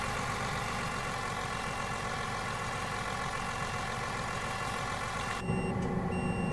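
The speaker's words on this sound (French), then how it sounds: "essayez de rester aux alentours des 1000 tours hein, le plus possible pour faire chauffer doucement le moteur" A bus engine idles steadily at low revs during a cold start in the OMSI 2 driving simulator, a continuous mid-low drone that shifts near the end as a brief mechanical change and chime-like tones join in.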